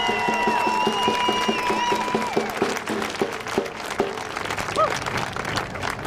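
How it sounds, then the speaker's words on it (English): Outdoor rally crowd for education, gathered around a pickup truck stage, bursts into loud sustained applause and cheering, with whistles and shouts rising over dense clapping that gradually thins out. "Please, big round of applause for the education critic,"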